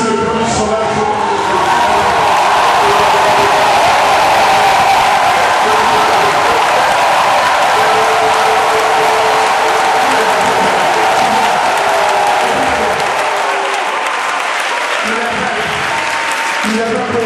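A church congregation at a Pentecost service in Abobo, Abidjan, bursts into loud, dense applause and cheering that runs continuously, crowd voices mixed into the sustained clapping.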